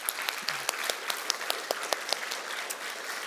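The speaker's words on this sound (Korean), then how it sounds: "그분들을 위해서 우리 힘찬 박수 한번." A church congregation applauds during a Sunday worship service, steady clapping from many hands with sharper individual claps standing out, continuous and moderately loud throughout.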